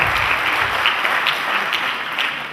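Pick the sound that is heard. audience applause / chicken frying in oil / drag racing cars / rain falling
audience applause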